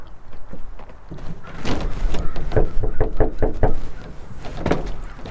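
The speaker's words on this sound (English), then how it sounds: "No one answered the door at Stella's" Knuckles knock on a house door in a rapid series of sharp, close raps that come in clusters, moderately loud against a quiet background.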